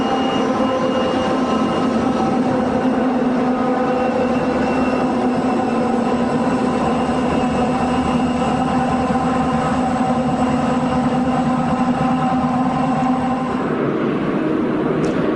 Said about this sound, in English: the extra dynamic braking provided by these helper locomotives gives the train more power to slow down or